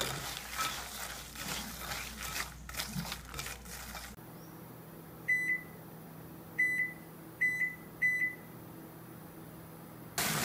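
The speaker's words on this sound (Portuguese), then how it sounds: "Aí vai no forno micro-ondas por 18 minutos" A microwave oven cooking sugared peanuts hums steadily, then four short, high beeps ring out at intervals over the running drone.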